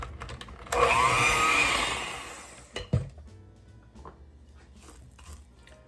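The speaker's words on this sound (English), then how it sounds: "Let's get that blended up" An electric mixer whirs loudly through gluten-free chocolate chip cookie dough for a bit over a second, then winds down. A couple of clunks follow, then the room falls fairly quiet.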